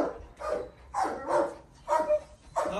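A Cane Corso barks in four or five loud, separate bursts, close by, with short pauses between them.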